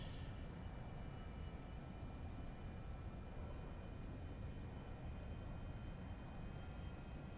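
Steady jet engine roar from a Cirrus Vision SF50 in X-Plane 11, a constant broadband rumble with a thin high whine, held at power during a slow instrument approach, continuous with no talk.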